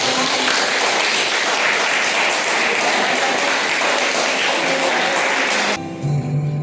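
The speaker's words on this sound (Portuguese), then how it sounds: "Você pode aplaudir o Senhor por essa palavra." Church congregation at a family service applauding, a dense, loud wash of clapping hands sustained for several seconds before cutting off abruptly, followed by a soft tonal hum.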